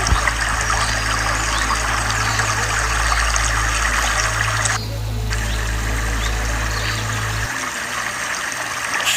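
Water at a Peak District waterfall where two streams meet, a steady broadband rush and trickle running continuously at moderate distance, with a low hum underneath for most of the stretch.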